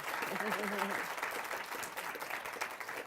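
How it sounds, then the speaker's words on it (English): An audience applauds after an author's talk on rewriting gender in Mexico, a dense, steady wash of clapping that fills the short stretch from start to finish, with a brief voice heard at the very beginning. "So join me in giving her a round of applause."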